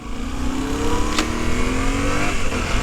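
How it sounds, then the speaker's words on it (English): A 2023 Yamaha Tenere 700 World Raid motorcycle engine is blipped, giving a loud, close, sustained rev that climbs smoothly in pitch with no voices. "you can blip this thing up and down all day long"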